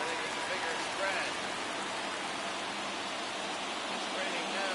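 Steady rain hiss in MLB The Show 24 during a 1971 playoff game between the Mets and Cardinals, a continuous broadband wash with no breaks, even and moderately loud throughout.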